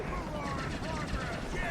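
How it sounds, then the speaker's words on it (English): Helicopter in the Ultimate Spider-Man video game, a steady loud rotor and engine drone filling the whole short stretch, with game sound effects layered over it. "I have to get that chopper out of the sky."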